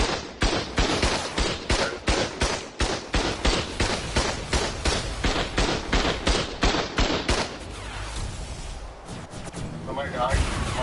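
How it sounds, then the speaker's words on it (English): Heavy gunfire in the video game Ark: a long run of loud, evenly spaced rapid shots, about three per second, then a rumbling, noisier stretch with scattered bangs, and a voice talking at times. "That's a heavy shooting."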